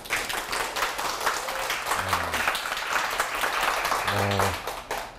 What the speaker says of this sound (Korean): 사실 이제 박수를 2번 받고 싶어서 인사를 한번 2번 드려봤습니다.